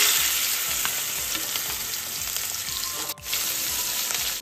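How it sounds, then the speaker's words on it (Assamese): Fish pieces rubbed with salt and turmeric fry in a hot wok, giving a steady, dense sizzle that runs nearly the whole time, with a brief dip near the end. "প্ৰথমতে মাছ কেইডোখৰ ভাজি লওঁ।"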